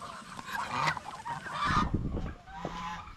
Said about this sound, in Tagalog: Hindi ko alam kung ilan lahat yung gansa natin dito na natira.